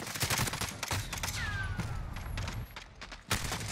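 Rapid gunfire from a multiplayer shooter video game, dense bursts of shots crackling continuously through the whole stretch, loud and close, with a brief lull near the end before another sharp burst.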